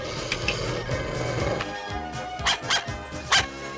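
A small dog yips and barks in short bursts over a busy background of music or noise, several sharp barks clustered near the end.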